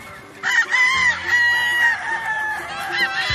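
Purebred Jolojano Basilan native free-range chickens: a rooster lets out one loud, drawn-out crow close by, with softer clucking around it and no speech.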